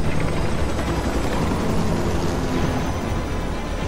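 Helicopter in the Batman Arkham Origins game, a dense, loud, steady roar of rotor and engine noise filling the whole stretch without pause, no voices over it.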